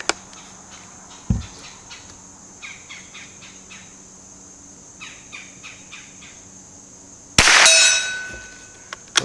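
Two sharp metallic clangs from .22 rounds fired by a Ruger American bolt-action rifle striking a steel target, a brief one early and a louder ringing strike later, against a steady insect buzz outdoors.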